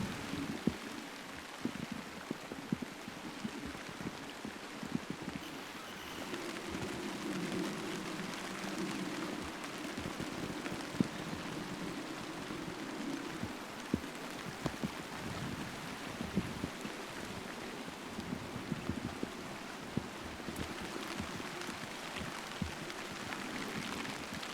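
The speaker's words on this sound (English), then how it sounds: "another wet unsettled spell, with around 50 millimetres of rain" Rain falls on a garden during a wet, unsettled autumn spell: a soft, continuous patter with scattered sharper drips and a low wash of background noise, faint and steady throughout.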